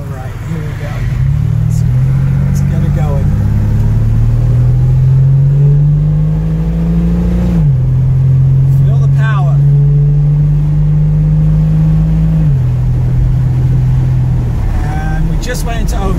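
A 1972 Ford Capri V6 drives along with a steady, loud engine drone that climbs in pitch while accelerating, dips briefly at a gear change, then holds an even cruise before easing off, close and continuous throughout.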